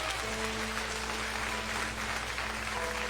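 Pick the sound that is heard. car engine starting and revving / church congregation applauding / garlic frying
church congregation applauding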